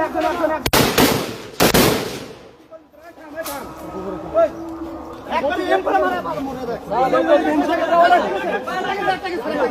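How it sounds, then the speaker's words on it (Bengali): Blank gunfire shots crack out twice, loud and close, near the start, followed by excited crowd chatter and shouting voices that continue to the end. "ওরা হচ্ছে ব্লাঙ্ক ফায়ার করতেছে"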